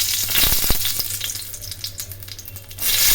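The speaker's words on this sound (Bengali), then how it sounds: "কড়াইয়ে তেল গরম করে শুকনো লঙ্কা দিয়ে দিলাম" Dried red chillies sizzle and crackle in hot oil in a wok, a steady close frying hiss with a few sharp pops near the start and a swell of sizzling at the end.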